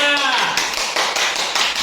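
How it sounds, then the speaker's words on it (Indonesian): A group of students claps together for a classroom team during a coding and computational thinking activity, a run of quick, fairly loud claps in close succession. "tepuk tangan untuk kedua"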